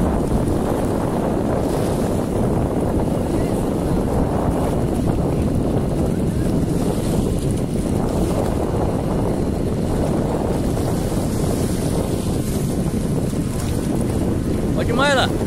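Wind buffets a small boat as it is hauled out of the water on a power boat outing, a steady loud roar of gusts and water noise throughout with faint voices mixed in.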